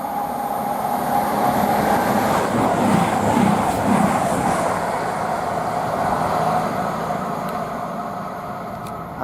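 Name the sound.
Voyager train passing, heading to Newcastle from Reading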